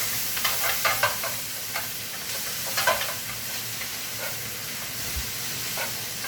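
Cabbage and partly frozen peas sizzle in butter in a hot pan, a steady close hiss of frying with intermittent scraping and stirring sounds throughout.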